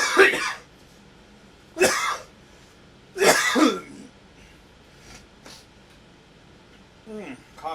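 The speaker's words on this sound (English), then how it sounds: "Coughed a little loogie came out." A person coughs and clears their throat near a microphone, three harsh bursts spaced a second or so apart, followed by quieter throat noises.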